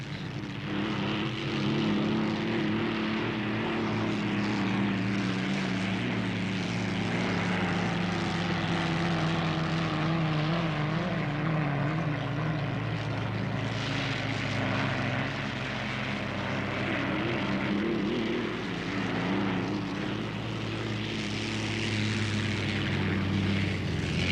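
The Notre Dame unlimited hydroplane races a qualifying lap, its engine a loud, continuous roar with steady droning tones that hold throughout, close and sustained with no talk.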